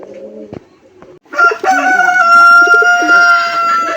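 Old-breed Rasgolla pigeons call in a short soft burst, then a loud, sustained, tonal call carries steadily to the end, close by.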